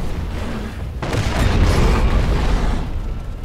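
Firecrackers go off in the video game Sekiro, a loud, dense rumbling burst that swells about a second in and rolls on with crackling noise before easing slightly.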